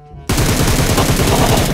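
Rapid automatic gunfire from a video game bursts in suddenly and loud, a sustained stream of closely spaced shots filling the whole moment without pause.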